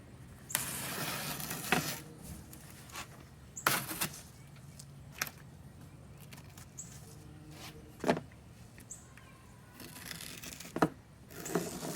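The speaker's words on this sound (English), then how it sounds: "So I'm going to peel away the masking tape now." Masking tape peeled away in several short, sharp tearing strips against a quiet room, part of fitting a hinge to a YILDIZ over/under gun case cover, with pauses and soft handling noises between pulls.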